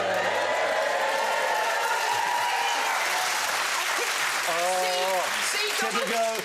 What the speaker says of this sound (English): They're clapping you right now.